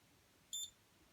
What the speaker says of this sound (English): Got a nice little beep.